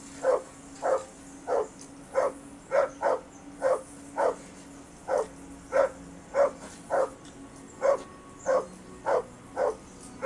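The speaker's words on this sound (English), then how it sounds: "Henry, call that dog to heel." A dog in the medieval role-playing game Kingdom Come: Deliverance barks in a steady, evenly spaced series of sharp, loud woofs, about sixteen across the stretch, close by with a faint hum underneath.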